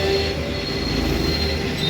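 An e-rickshaw's electric motor spins with the drive wheel lifted off the ground during a repair test, giving a steady, continuous close whine with a faint rattling underneath and no pauses.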